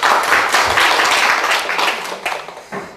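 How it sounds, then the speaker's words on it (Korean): Applause from a lecture audience in a real estate law class, a brief burst of clapping that thins out toward the end and stops after about three seconds. "네, 박수 한번 쳐주시고."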